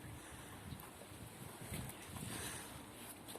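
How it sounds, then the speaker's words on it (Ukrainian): Strong wind roars and buffets continuously in cold spring weather near Rivne, Ukraine, a rough broadband rush with gusty low rumbles battering the microphone. "Дуже сильний вітер."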